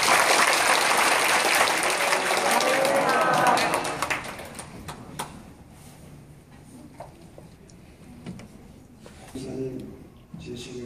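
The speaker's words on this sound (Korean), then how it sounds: "박수하겠습니다" A church congregation at a Methodist seminar applauds a visiting guest pastor, a loud dense wash of clapping for about four seconds that fades out, followed by quieter room sounds and someone speaking.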